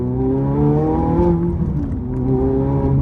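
A Ferrari F430 engine revs hard through an upshift, rising in pitch, dipping as the gear changes, then climbing again. The sound is loud, close and dominant throughout.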